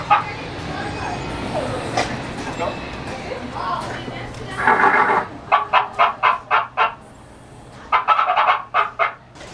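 A rapid series of sharp clucks from chickens nearby, coming in quick rhythmic bursts over a background of crowd noise and a steady hum.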